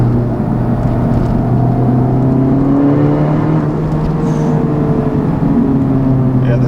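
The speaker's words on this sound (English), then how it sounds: "That Borla exhaust is very cool, and decent amount of turbo noises too." A 2019 Honda Civic Type R's deep Borla exhaust drones steadily with a turbo whirring above it, a continuous, loud engine rumble throughout.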